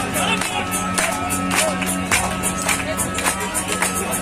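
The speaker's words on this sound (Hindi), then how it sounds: "सभी तालियां बजाइए भाई।" An audience claps in time during a live Hindi song performance, with a steady rhythmic beat of hands and crowd noise throughout, no clear talk over it.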